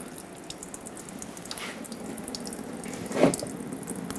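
Coolant draining from the radiator drain of a 1999-2007 Ford F-350 with the 7.3L Powerstroke into a collection bucket, a steady trickling pour with a brief splashy surge near the end, close and fairly quiet.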